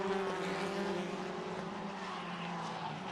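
TCR touring cars race at Mid-Ohio in a Kumho FIA TCR World Tour round, producing a steady, fairly faint blend of engine drone and tonal whine from cars passing at a distance.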